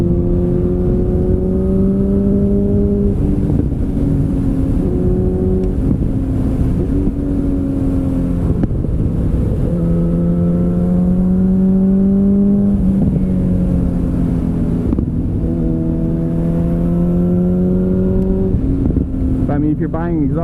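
A motorcycle engine with an SC Project straight-through exhaust that has no baffling revs repeatedly, giving loud, close, rising and falling throttle blips in a continuous rhythmic pattern.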